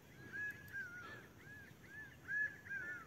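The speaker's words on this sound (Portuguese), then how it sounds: "esse passarinho tá cantando num" A small bird sings from a tree on a rural plot, giving a faint, repeated series of short arching whistled notes at a steady pace, spaced about half a second apart over soft background hiss.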